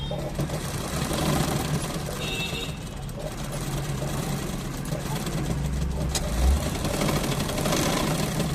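Sewing machine stitching a thick blouse fabric studded with small beads and sequins, a continuous close mechanical whirr running throughout with slight variations in pace and a brief clunk near the end.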